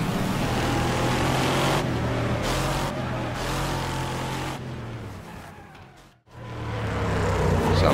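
A race car drives in the video game Wreckfest, its engine droning loudly and steadily with shifting revs, briefly fading near the end before surging back in.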